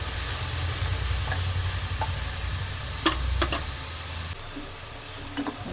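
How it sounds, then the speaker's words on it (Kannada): Onions frying in a pan over a medium flame, with a constant crackling sizzle and a few sharp scrapes and clicks from stirring scattered over it. "ಚೆನ್ನಾಗಿ ಫ್ರೈ ಆಗಬೇಕು ಈರುಳ್ಳಿ"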